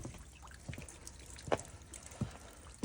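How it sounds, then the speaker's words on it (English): Light hail falls outside at 3 a.m. around parked vehicles, a Lexus GX460 and a Yukon, heard as sparse, faint ticks and taps scattered against a quiet nighttime background. "Got a little hail."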